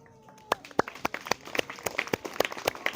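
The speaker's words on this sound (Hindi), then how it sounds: "जोरदार ताली बजाया करो।" Audience clapping in a class or seminar setting, starting as a few scattered claps and building into a brisk, uneven round of distinct hand claps over a few seconds.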